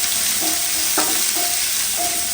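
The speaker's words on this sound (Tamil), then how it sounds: "சின்ன வெங்காயத்தை சேர்த்து நல்லா வதக்கிடுவோம்" Small shallots and curry leaves sizzle steadily in hot oil in a clean pan, a loud continuous hiss with a few scraping stirs of a spoon cutting through.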